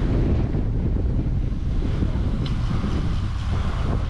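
Strong wind buffets the microphone on the Brouwersdam in the Netherlands, a loud, steady low roar with gusty rumble throughout and no voices.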